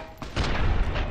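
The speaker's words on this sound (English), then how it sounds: "God, that is some long fuse dynamite." A long-fuse dynamite blast in the video game Fallout: New Vegas lands as a single loud, rumbling boom that quickly swells and then sustains with a rough, noisy roar.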